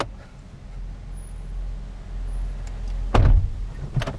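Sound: car door

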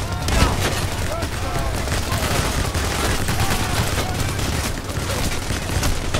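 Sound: shotgun gunfire in video game Payday The Heist

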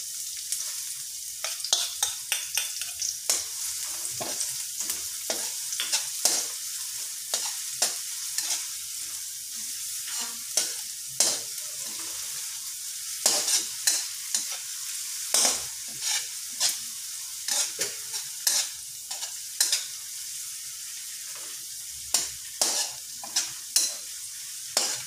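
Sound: onions (sibuyas) frying and being stirred in a pan

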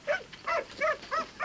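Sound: racing dog barking

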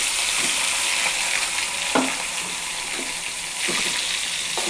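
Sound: tempering frying in a pan with boiled cowpeas

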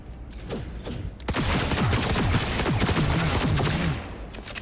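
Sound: gunfire from a gun in the video game Cyberpunk 2077

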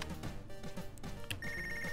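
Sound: telephone ringing in a video game

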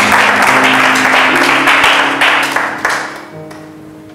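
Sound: church congregation applauding

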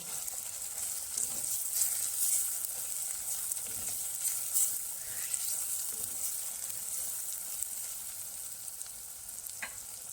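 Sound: spice gravy frying and being stirred for prawn biryani

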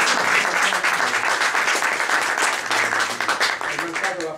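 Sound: audience applause for the president at award ceremony

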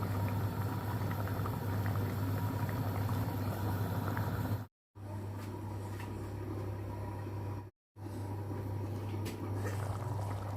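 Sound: curry boiling in a pan

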